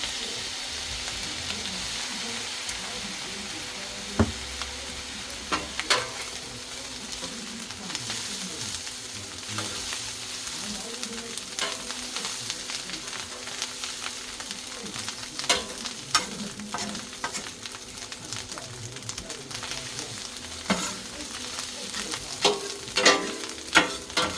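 Rice frying on a flat top griddle for chip shop fried rice, a steady soft sizzle with scattered scraping and stirring clicks, close and without talk.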